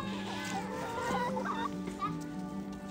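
A rooster clucks and murmurs close by in a short run of low, throaty calls, with a steady hum in the background.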